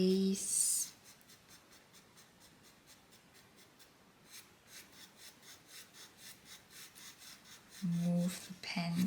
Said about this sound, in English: Move the pencil upwards and downwards.